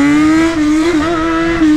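Yamaha XJ6 motorcycle engine held at a loud, close rev with a strong steady tone that dips and climbs slightly, no talk over it.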